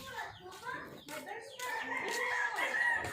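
A rooster crows loudly and repeatedly, its drawn-out calls overlapping with a bit of background chatter and other farmyard noise.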